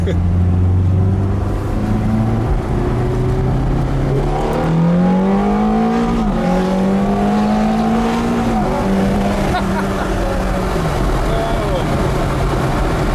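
A 490 hp car's engine and exhaust accelerate hard in race mode with the exhaust valves open, the note climbing steadily through the gears as a loud, continuous close roar, with people talking over it.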